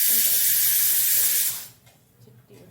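Chilli and garlic sizzling in hot oil for a tadka, a loud, steady broadband hiss of frying that cuts off sharply partway through, leaving a quieter background.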